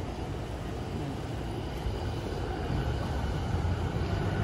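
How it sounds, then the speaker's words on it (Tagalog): A train passes near Koenji Station in Suginami City, Japan, as a steady broadband rumble and roar that builds slightly louder over a few seconds outdoors. "Ayun yung tren."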